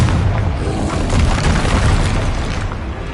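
A Confringo blasting spell detonates in a Harry Potter video game, a loud close explosive boom with a sustained rumbling roar that fills the whole moment.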